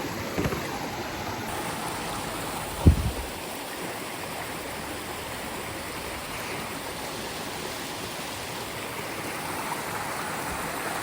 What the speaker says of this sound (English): There guys, this is the river.